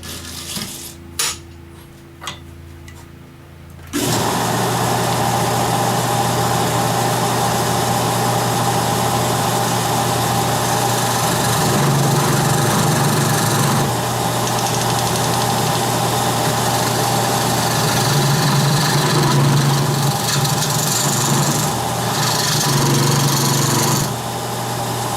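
A woodturning lathe is switched on after a few light clicks, then settles into a steady, loud motor hum while spinning at 600 RPM, with faint scraping over the drone.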